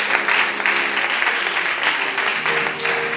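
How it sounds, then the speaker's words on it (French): A church congregation applauding during a French worship service, a dense, steady burst of clapping from many hands filling the room, loud and continuous throughout. "Acclame la parole de Dieu."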